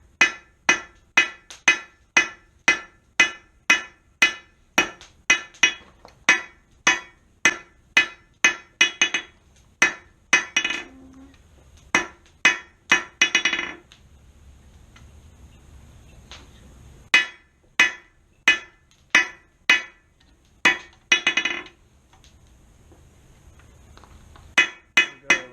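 Hot steel is hammered on an anvil while a double hook is forged: loud, ringing metallic blows in quick, regular bursts, broken by short pauses and one longer quiet spell before the striking resumes.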